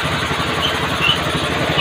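A steady, low engine idle rumbles continuously at close range, an old Honda CBR 250cc motorcycle ticking over evenly without revving.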